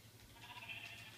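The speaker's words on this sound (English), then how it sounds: "And I'm hoping this freaking sheep will leave me alone." A sheep bleats in Minecraft, a faint wavering call over a low hum, with no talking.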